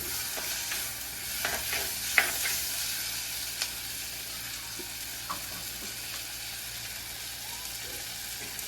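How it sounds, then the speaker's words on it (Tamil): Ingredients sauté in a clay pot for a spicy Sri Lankan prawn curry, giving a steady sizzling fry throughout with occasional stirring scrapes and soft knocks, close and continuous. "வதங்கி கொண்டிருக்கட்டும்"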